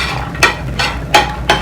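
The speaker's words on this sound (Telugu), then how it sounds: "గసాలు కొబ్బరి జీడిపప్పు ఫ్రై చేస్తున్నాను" Poppy seeds, coconut and cashews frying in a pan, a steady soft sizzle broken by four sharp spatula scrapes against the metal at uneven intervals, close and clear with no voices.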